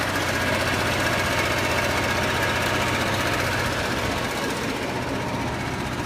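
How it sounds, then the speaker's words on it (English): A generator engine with 363 hours of use runs after a start, giving a loud, steady, close knocking chug that holds without a break for the whole stretch. "the generator has 363 hours on it, and we started it from here."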